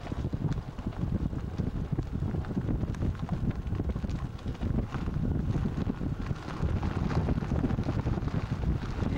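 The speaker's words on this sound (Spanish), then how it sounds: "Va a haber mucho viento ahora." Strong wind buffets the microphone at Mojave Airport, a loud continuous rumbling roar with gusty fluctuations and no clear voices.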